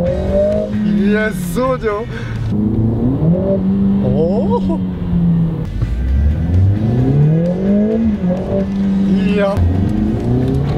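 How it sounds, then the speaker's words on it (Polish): A small car drives off and accelerates hard, its engine note rising beneath loud, excited voices that shout and talk over it almost continuously. "muszę się zapoznać z autkiem. Zobaczcie, jak to będzie jeździło."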